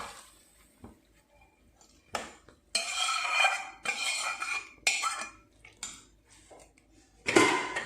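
Cooked tomato and capsicum tipped into a pot of bisibelebath, with clanking spoon-on-metal scrapes and clatters in several bursts separated by quiet gaps, close and fairly loud, no talk.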